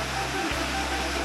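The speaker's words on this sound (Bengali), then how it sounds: "জলটা পড়ছে কোথা থেকে, জল পড়ার শব্দ হচ্ছে।" Water tumbling down over rocks in a small forest stream in Belpahari, West Bengal, giving a steady broadband rush that runs unbroken through the whole moment at close range.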